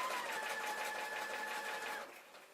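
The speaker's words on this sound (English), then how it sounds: "just stitch this in place right along the edge" A sewing machine top-stitches along the edge of denim jeans with a steady, fast whirring hum for about two seconds, then winds down and stops, alone and close.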